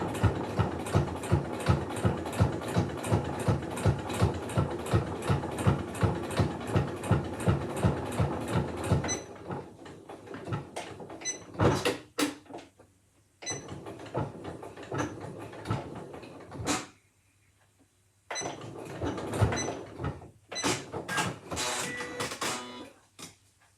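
A sewing machine stitches slowly along a fabric edge for a face covering, with steady rapid needle pulses, then short stop-start bursts and pauses as back tacks are made, close and clear.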